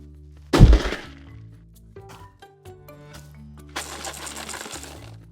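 A small box shaken and dropped gives a sharp loud knock followed by loose rattling of something inside, a brief pause, then a longer burst of rattling, all close and with no talking.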